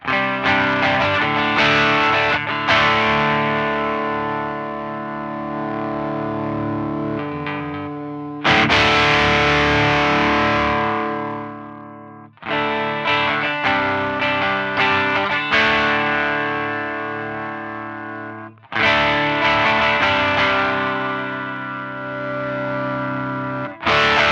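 Heavily distorted electric guitar chords through a Lovepedal Eternity drive model on an Axe-Fx III ring out and sustain, struck again in several loud bursts with short gaps between them.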